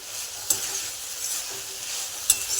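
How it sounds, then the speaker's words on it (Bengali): Potatoes frying in a pan give off a steady, close sizzle, with two sharp clinks of stirring around the half-second mark and near the end. "সেই জন্য প্রথমে আমি আলুটা ভেজে নেব"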